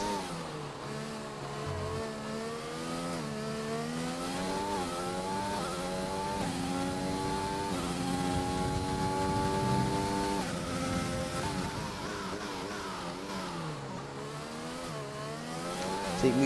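An onboard race car engine in a sim racing game on the China circuit, on soft tyres, howls loudly with rising and falling revs through gear shifts and corners, continuous and close.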